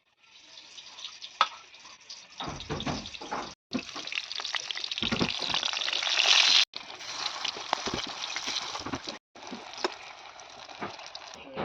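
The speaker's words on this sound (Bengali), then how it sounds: "হয়ে গেল বেগুন ভাজা" Eggplant pieces frying in oil in a pan in a Bengali village kitchen, a steady close hiss and sizzle that swells and crackles, broken by brief pauses and occasional stirring clatter.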